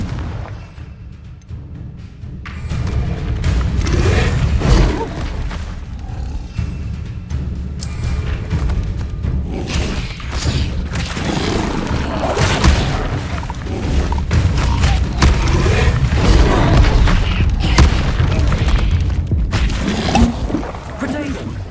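Confringo blasting spells go off in the Hogwarts Legacy video game, loud booming blasts and crashing impacts layered over game music and effects, with a voice talking over much of the fight.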